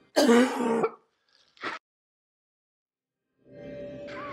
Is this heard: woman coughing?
yes